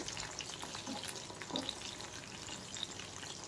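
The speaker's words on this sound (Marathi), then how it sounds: "अशा प्रकारे आपण तळून घेऊया सर्व प्रॉन्स" Spiced prawns shallow-frying in a pan for kolambi fry, producing a faint, steady sizzle with a few soft crackles, quiet and close with no voices.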